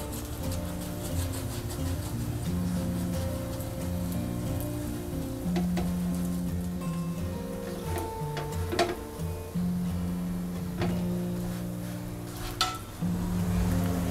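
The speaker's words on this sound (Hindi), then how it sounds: "पराठे को हम दोनों साइड से अच्छा क्रिस्पी होने तक सेकेंगे" A garlic lachha paratha fries crisp in oil on a pan, with a steady soft sizzle, scattered small crackles and occasional clicks of handling, fairly quiet and without talking.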